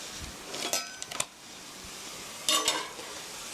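Stir-fried pork tossed in a pan with a spatula, clinking scrapes in two short bursts over a soft continuous sizzle, close and moderately loud.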